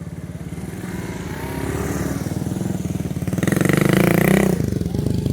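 Several Honda C70 Cub motorcycles start off and ride away at Usal Beach on California's Lost Coast, their small engines puttering steadily, then revving louder and rising in pitch before easing back, close by with no talking.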